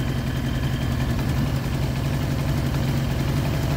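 A Baotian BT125T scooter engine runs steadily at a low, even idle, a close and constant mechanical drone with a fine rhythmic chug throughout and no voices.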